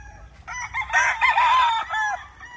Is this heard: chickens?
yes